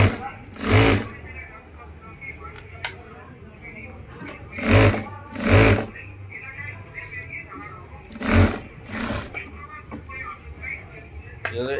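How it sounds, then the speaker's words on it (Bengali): A sewing machine stitches a jacket in several short, loud bursts of running with pauses between them, while a person talks throughout. "দেখতে পাচ্ছেন খুব সুন্দর করে কিন্তু সেলাই হচ্ছে।"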